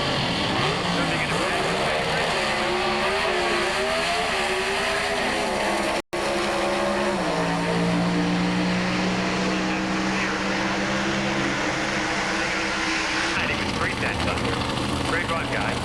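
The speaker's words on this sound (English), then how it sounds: "So cars running now in comp eliminator." Comp eliminator drag racing cars roar through qualifying runs at the 1990 Spring Nationals, loud engines rising and falling in pitch as they pass, with an announcer talking over the noise.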